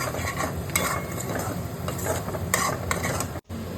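Fried chicken pieces sautéed and stirred in chili sauce for chili chicken, giving a steady close sizzle with repeated scraping stirs and a brief drop near the end.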